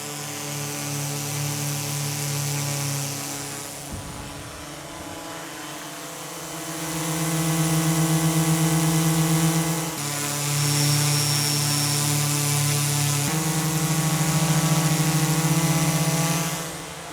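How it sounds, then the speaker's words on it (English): DJI Mavic 4 Pro and Mavic 3 Classic drones hover nearby, one after the other, with a steady, loud propeller whine that shifts between a deeper hum and a higher, louder buzz when the drones swap. No one talks. "I would say the Mavic 3 Classic is a little bit louder, but predominantly Mavic 4 Pro is just a deeper pitch."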